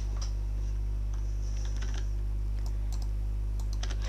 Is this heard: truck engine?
no